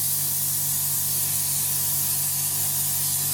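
Continuous close airbrush hiss as paint is sprayed in a light coat onto an Academy F-16I Sufa plastic model kit, loud and unbroken throughout.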